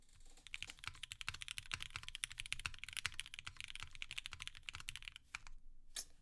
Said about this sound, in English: I love how this keyboard sounds already